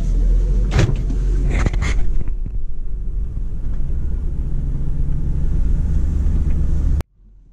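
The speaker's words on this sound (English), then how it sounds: "So we're pulling out into traffic now" A 1997 Ford Expedition XLT Eddie Bauer Edition pulls away, its engine a steady loud low rumble heard from inside the cabin, with a few early clicks and knocks before the sound cuts off abruptly.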